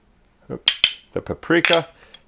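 A big bowl set down with a few clinks and knocks of kitchenware, followed by short soft rustling bursts as flour and paprika go in for a rib dish; close, with no speech.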